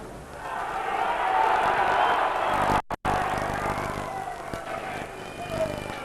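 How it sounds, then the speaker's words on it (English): A big stadium crowd murmurs and roars at Bramall Lane before kick-off of a 1989 Sheffield Eagles v Widnes rugby league match, a broad steady wash of noise with one brief dropout midway. "this big Bramall Lane crowd are now ready for the kick-off"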